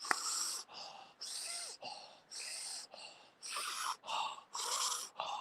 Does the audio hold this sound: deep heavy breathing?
yes